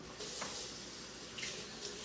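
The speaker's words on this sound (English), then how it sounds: "Let me rinse out once again." Tap water runs steadily into a kitchen sink while a baking bowl is rinsed, a continuous close hiss with a few small splashy swells partway through.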